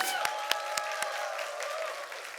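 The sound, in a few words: church congregation applauding in welcome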